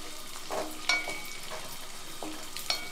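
Mixed dry fruits and nuts, including pistachios and melon seeds, roasting in a pan while stirred: a soft steady sizzle with light scraping strokes of the spoon every half second or so, close and quiet.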